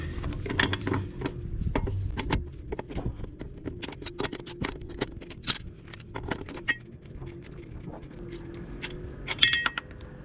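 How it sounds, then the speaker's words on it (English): Wrench working a 35mm drive shaft nut off a Peugeot 407, giving a steady run of close metallic ratcheting clicks and clanks with occasional sharper knocks, and no talk. "So now I'm gonna be removing this nut out of the way."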